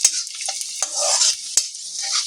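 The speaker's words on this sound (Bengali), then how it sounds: "এটাকে মিডিয়ামে দিয়ে আমি রসুন আদাটা লঙ্কাটা একটু ভাজা ভাজা করে নেব।" Garlic, ginger and chili sizzling in a pan over medium heat, a steady hiss with a few scrapes of stirring, close and fairly loud.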